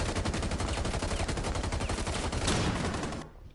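Rapid automatic gunfire in Rainbow Six Siege, a loud continuous burst of close shots that runs for about three seconds and then cuts off abruptly.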